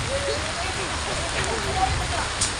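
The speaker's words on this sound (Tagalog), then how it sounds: "Sobrang lakas mga sa ulan ng mga tol." Heavy rain pours down in a steady, dense wash of noise at night in a rural Philippine setting, loud and continuous throughout, with faint voices and scattered sounds mixed beneath the downpour.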